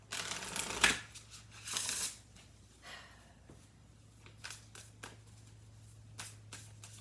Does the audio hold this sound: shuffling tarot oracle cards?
yes